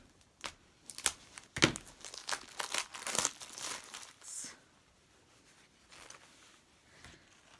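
Plastic packaging of a sewing sampler box crinkles and rustles in bursts close up, with sharp snips from scissors and tearing sounds, then quieter handling as it settles.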